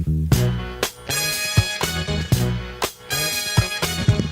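A loud disco track plays with punchy repeating drum hits and bright horns and guitar, steady groove throughout with no talking over it.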